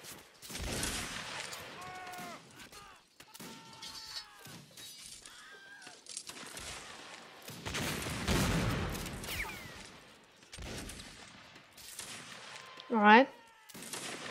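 Musket volley fire in the Napoleonic Wars mod of Mount&Blade Warband, set at a desert fort: bursts of crackling gunfire scattered through the battle under ongoing speech, with one sharp, loud shot near the end.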